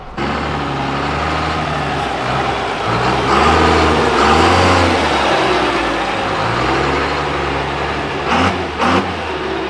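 Turbocharged Plymouth Cuda driving past with a loud, sustained engine roar that surges and revs as it accelerates, close and rough-toned throughout with no talk.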